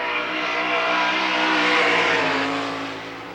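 Race car number 21 roars through a timed lap at Lernerville Speedway, a dirt oval, in 1994. A loud, steady engine drone swells to a peak and then fades slightly, as if passing close by, with no talking.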